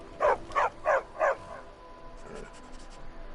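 A companion dog in the Skyrim video game gives four quick, evenly spaced barks close to the listener, then goes quiet. Soft game ambience continues underneath.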